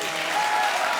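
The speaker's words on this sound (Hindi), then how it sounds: "ताली बजा बेटी के लिए," A brief burst of studio audience applause on a Hindi comedy show, dense and steady clapping filling the whole moment.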